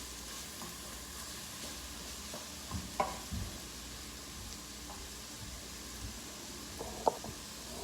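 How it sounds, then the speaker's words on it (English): Vegetables sautéing in a pan, for a gnocchi bake with lemon juice, a soft steady sizzle with occasional utensil clicks and scrapes, close by and without talk. "Got all of our vegetables in there sauteing."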